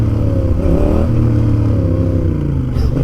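A light, comfortable trial motorcycle with a CP2 engine revs hard and close, its throttle rising and falling in quick blips over a steady loud drone, with no voices.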